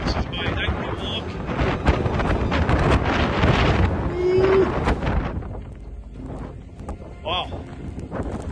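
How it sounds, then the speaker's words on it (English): Strong wind buffeting the microphone out in the open during a massive snowstorm on a Midwest farm, a loud rumbling roar with gusts, while someone talks over it. "it gets windy when you're out in the open"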